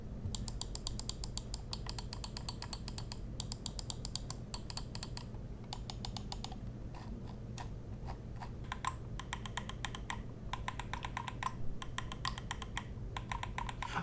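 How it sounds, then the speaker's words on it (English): Rapid, crisp clicking of the buttons of a Bloody SP30 optical gaming mouse in quick bursts with short pauses between, close up and fairly quiet, no talking. "as far as the button presses in that sound test right there"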